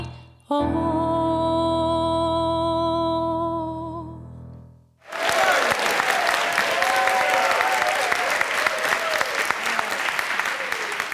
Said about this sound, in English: we like the whoopee applause